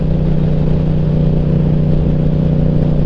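A motorcycle exhaust with its baffle removed runs loud and close in a steady, unbroken low drone, with no voices over it.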